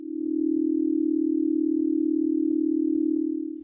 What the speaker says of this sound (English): Isochronic tones. These are tones of chronic frequency.